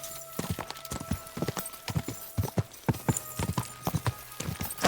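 Horse hooves in the video game Kingdom Come: Deliverance 2 clip-clop in a brisk, uneven rhythm on a hard surface, with occasional faint voices in the background.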